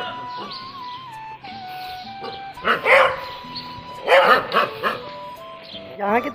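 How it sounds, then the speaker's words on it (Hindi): Dogs in a city bark in several short bursts over steady background noise, with a drawn-out whine and someone talking nearby. "यहाँ के तो कुत्तों के भौंकने में भी दम नहीं यार"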